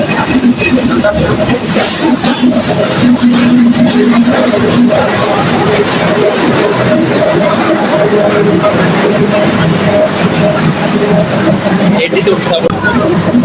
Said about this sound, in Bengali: আমাদের ট্রেনটা ছেড়ে দিয়েছে।